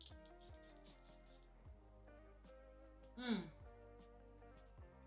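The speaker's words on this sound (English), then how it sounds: "First, we're gonna spray on the card." A short hissing burst of perfume sprayed onto a card, fairly close, rising briefly above steady background music.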